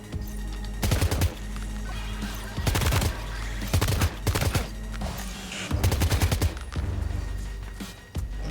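Rubber-bullet gunfire at live targets in Death Stranding 2: loud close bursts of rapid shots in several clusters, separated by short gaps of quieter game ambience.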